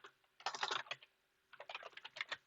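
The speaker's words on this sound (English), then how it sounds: "Thank goodness you can't see how bad my typing is right now." Two quick bursts of typing on a computer keyboard during a livestream coding session, fast uneven clacking of keys close to the microphone with a short pause between the runs.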